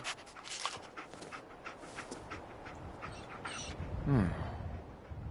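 Dogmeat, the canine companion in the video game Fallout 4, pants softly and steadily over a low ambient backdrop, with a brief louder rise near the end.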